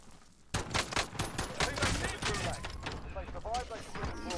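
Gunfire in the video game Call of Duty: Warzone, a sudden burst of rapid automatic shots followed by continued firing under a voice.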